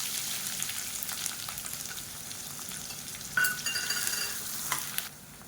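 Chopped onions sizzle and crackle in hot oil in a pan for egg masala, with stirring scrapes and a louder burst of frying partway through.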